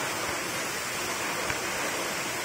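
A steady, even roar of falling water from the Paozilun waterfall beside a hiking trail rest area, broad and continuous with no pauses and no voices.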